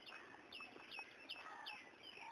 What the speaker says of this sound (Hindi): कोयल की बोलने की आवाज़ आ रही है